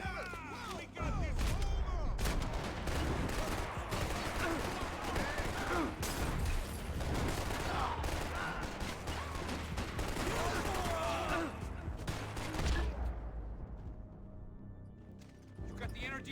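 Heavy gunfire in Max Payne 3 crackles in dense, overlapping volleys with loud action noise, and voices shout over the firefight before it thins out and quiets near the end.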